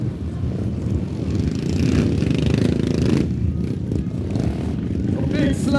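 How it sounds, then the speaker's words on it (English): Royal Enfield twin-cylinder motorcycles racing on a track at a rider event: a loud, continuous engine roar from nearby bikes, rising and falling slightly as they pass, with no clear talk over it. "It's so cool seeing even the twin sounding so badass on the track out here."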